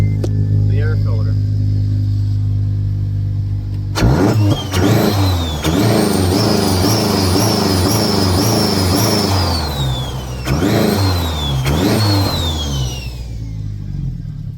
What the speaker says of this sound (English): you can start it and rev it and hear some turbo noises